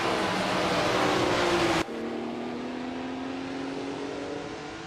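Engine of a 1968 Alfa Romeo T33/2 Longtail race car in a racing game, a steady, loud drone that shifts abruptly to a smoother, rising whine as the car pulls on, with no voices.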